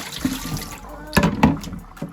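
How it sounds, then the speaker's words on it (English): Water sloshes and splashes in short bursts as rice is swished and rinsed in a bowl, close by, with brief pauses between movements. "And see, this dirty water is all the dirty water from the rice."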